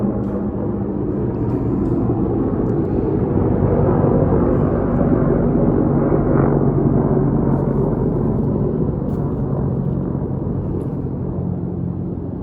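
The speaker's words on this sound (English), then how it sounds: "I'll wait for the helicopter to go by." A helicopter flies overhead with a loud, steady low rumble filling the whole stretch, swelling slightly midway without fading out.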